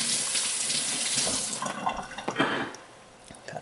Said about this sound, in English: Wash the peppers.